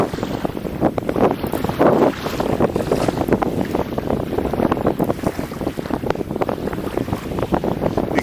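Strong wind blusters across the microphone on a sandy shore during jig fishing, a continuous rough roar with gusty surges and no talking.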